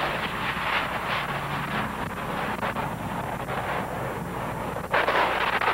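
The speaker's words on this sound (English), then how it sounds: "Those two jets that just took off are A-4 Skyhawk attack jets." Two A-4 Skyhawk attack jets take off at an air show at MCAS El Toro, a loud, steady jet roar with turbulent rushing noise that surges briefly near the end, with no voices.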